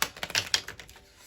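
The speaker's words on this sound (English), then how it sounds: "Let's shuffle them one time and put down as many as we can." A deck of animal oracle cards is shuffled on a table in a rapid run of crisp, close riffling clicks that fade out after under a second.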